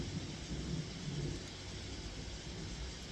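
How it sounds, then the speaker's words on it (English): Thunder from an approaching thunderstorm rumbles low and continuous in the distance under a steady hiss of rain, faint and unbroken throughout, with no voices. "Nasty thunderstorm approaching my area"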